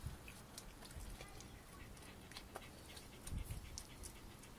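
A dog pants quietly and steadily, close by but faint, with a few soft whimpers and some scattered background noise and no speech.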